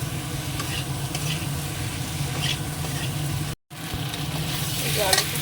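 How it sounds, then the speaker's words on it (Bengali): Potatoes fry in oil with spice paste while being stirred, a continuous dense sizzle with occasional scrapes and crackles, close and steady throughout. "এবার আলুটা দিয়ে দেবো একটু ভালো করে কষিয়ে নেওয়া যাবে"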